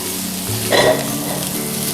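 Mixed vegetables for sweet and sour sauce, minus the spring onions, sizzle in a hot pan, with a brief louder hiss and some stirring over a steady crackle.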